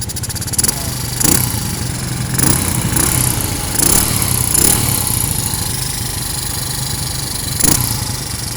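A Suzuki Shogun motorcycle engine runs steadily close by in a workshop, a continuous mid-pitched drone with a few brief revving swells and clanks along the way, with no talk over it.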